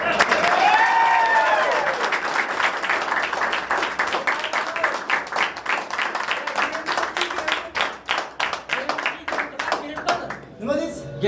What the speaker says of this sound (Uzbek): bitta olqish qilaylik